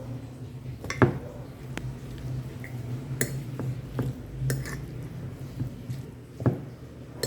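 A utensil mixes a bread salad spread in a bowl, with scattered light clinks and scrapes against the bowl over a soft, quiet background.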